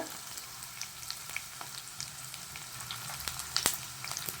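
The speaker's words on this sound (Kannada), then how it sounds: "ಸ್ವಲ್ಪ ಫ್ರೈ ಆಗಲಿ ನೋಡಿ ಫ್ರೈ ಆಗ್ತಾ ಇದೆ" Mutton sambar base frying in a pan with a steady, soft sizzle, the occasional sharper crackle and pop rising over the continuous hiss, heard close and with no talk.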